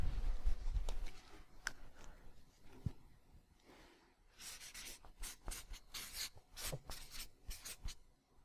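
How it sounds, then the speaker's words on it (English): A pen scratching across paper as a note is jotted down: quiet, close, rapid scraping strokes in short bursts, with a few faint knocks and rustles before the writing starts and no one speaking. "let me write this down"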